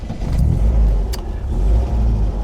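A 1971 MG B engine drones steadily from inside the moving car, with low rumble rising and falling slightly as it drives.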